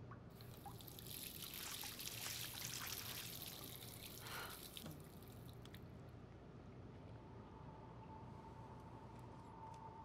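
Water pours in the game Life is Strange, a steady trickling stream for about five seconds that then thins to a faint dribble over a quiet ambient drone.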